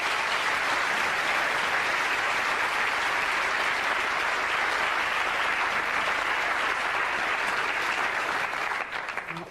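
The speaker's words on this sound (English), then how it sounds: "Let's give him a nice big round of applause." A theatre audience at a stage show gives a sustained, dense round of applause that holds loud and steady for nearly ten seconds before tapering slightly at the end, with no talking over it.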